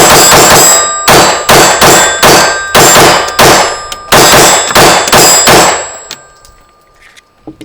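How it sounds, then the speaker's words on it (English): A stock Glock 45 pistol fires about a dozen loud, close shots at a slow, even pace with sharp metallic ringing, then the sound fades to quiet. "We're gonna shoot it slow and then we're gonna mag dump."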